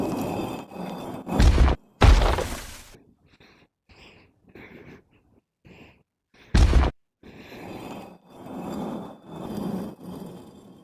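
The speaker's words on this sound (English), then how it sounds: "Whenever you hit something, it'll explode like that." Objects burst apart on impact in the video game Rocky, heard as two loud, sharp thumping blasts a few seconds apart among fainter scattered knocks and clatters.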